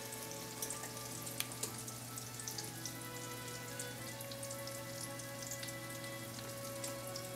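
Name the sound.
chicken cutlets frying in a pan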